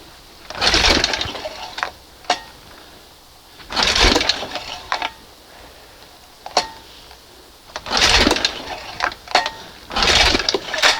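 A 1971 Johnson 20 HP outboard motor is pull-started with the carb open, heard close as repeated rough whirring bursts from each pull, with quieter pauses and clicks between the tries.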